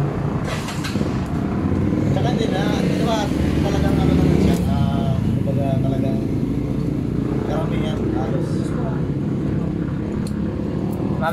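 A vehicle engine idles steadily and loudly nearby, with people talking over the constant rumble throughout.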